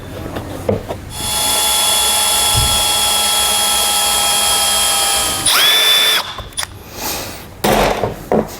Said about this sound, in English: What I'm going to use a step bit. I need to make this hole big enough that we can mount that switch in there.